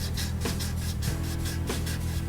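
Strokes of 200-grit sandpaper rasp across a stainless steel exhaust manifold, a close, rhythmic back-and-forth scrubbing repeated several times a second, loud and steady with no voices.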